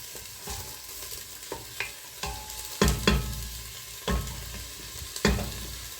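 Finely chopped garlic sizzles in a pan of meat sauce for lasagna, a close steady frying hiss broken by several distinct scraping stir strokes of a utensil across the pan.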